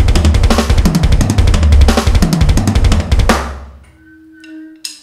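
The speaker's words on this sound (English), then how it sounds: "And if you speed it up a little bit, it will sound something like this." A faster run of a hand-and-foot drum fill, rapid tom and snare strokes interleaved with bass drum thumps, loud and close, then cut off to near silence with a faint creak and a light knock.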